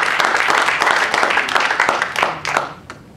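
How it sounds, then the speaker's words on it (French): Broad, dense crowd applause from an audience, many hands clapping steadily before tapering off near the end. "Applaudissez-vous."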